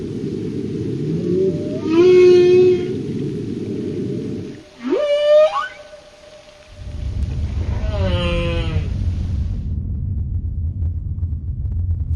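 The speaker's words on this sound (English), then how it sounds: "deep ocean whales, such as blue whales and fin whales, generate long drawn-out notes that, when recorded and played at a faster speed," Deep-ocean whale calls from blue or fin whales, recorded and sped up, come as a steady low rumble broken by rising, warbling tonal sweeps repeated in a slow rhythm, loud and alone.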